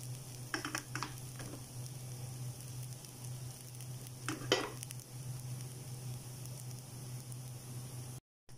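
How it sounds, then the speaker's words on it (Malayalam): Broken wheat sautés quietly in a pan, giving a soft steady sizzle with a few light scraping and clinking stirs from a spoon near the start and middle. "ഗോതമ്പ് നുറുക്കനി ഇതിൻ്റെ അകത്തേക്ക് ഇട്ടിട്ട് ഒന്ന് നന്നായിട്ടൊന്ന് വഴറ്റിയെടുക്കണം"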